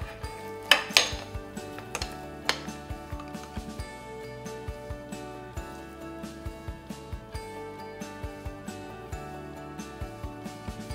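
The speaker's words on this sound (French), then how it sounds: "On pose l'assiette dessus, une grande assiette qui va sur le plat." Clatter of a large plate set over a baking dish while a caramelised apple tarte tatin is flipped, with a cluster of sharp knocks early on, then a steady run of light ticks and clinks, close and fairly loud over a musical background.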